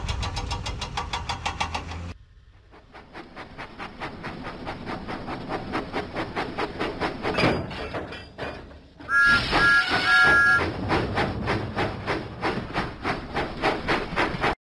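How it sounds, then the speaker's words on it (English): Thomas the steam engine from a children's video game puffs in rapid, rhythmic chuffs over game sounds, briefly dropping out before resuming, with a short tonal jingle partway through. "Thomas pumped his pistons and puffed out of the docks."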